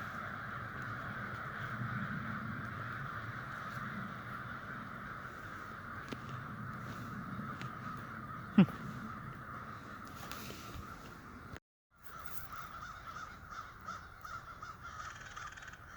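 Crows caw outdoors at a moderate distance in repeated calls over a steady background hum, with one sharp nearby click partway through.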